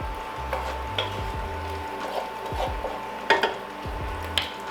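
Browned bacon is lifted out of a frying pan with rendered fat still in it. Scattered scraping and clinking of a utensil against the pan sound close by over a soft, steady background.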